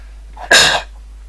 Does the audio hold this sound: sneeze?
yes